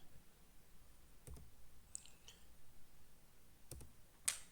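A few isolated computer keyboard keys pressed while entering a spreadsheet formula, quiet sharp clicks spaced apart in an otherwise silent room.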